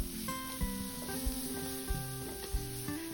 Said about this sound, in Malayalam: ഇതിലേക്ക് 2 ക്യാരറ്റ് ഗ്രേറ്റ് ചെയ്തത് ചേർക്കുക. എന്നിട്ട് നന്നായിട്ട് ഇളക്കി കൊടുക്കുക.